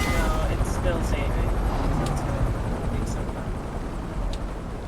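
A police helicopter in a video game drones steadily with a dense, rumbling rotor and engine wash that fills the whole stretch, loud and constant with faint high clicks on top.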